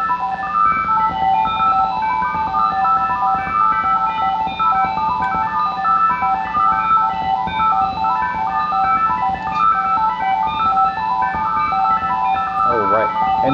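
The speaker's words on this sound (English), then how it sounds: "you can hear it at this speed, and you have phasing effects going on" Electronic tonal melody like an ice cream truck jingle, two copies of one recording running at different speeds so their notes drift against each other with a phasing effect, steady and continuous throughout.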